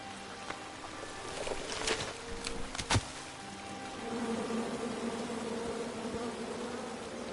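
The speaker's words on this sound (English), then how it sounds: "you chop down the tree full of angry bees" Angry bees buzz from a tree in the King's Quest video game, a sustained droning hum with sharper swells near the start, mixed with faint game effects and no talking.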